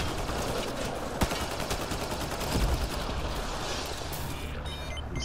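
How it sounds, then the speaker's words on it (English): Gunfire in a video game, a fast run of sharp shots with a few louder single cracks over a steady noisy background, fairly close with no talk. "Basically, I can shoot this guy through the floor."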